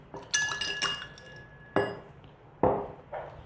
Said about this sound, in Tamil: ஐஸ் க்யூப் போட்டுடலாம்.